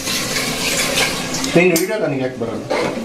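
Masala with mint and coriander leaves being sautéed in a pan, a metal spoon scraping and clinking against the pan under a soft sizzle while a person talks.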